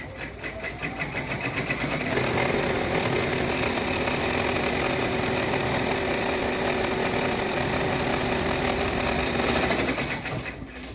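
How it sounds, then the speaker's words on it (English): An embroidery machine stitches a border around the edge of a soccer-ball coaster in the hoop, a loud, steady, fast mechanical rattle running unbroken for about ten seconds before it winds down, with no talk. "it is going to do a border around the edge, but leave a gap so that you can turn it right sides out"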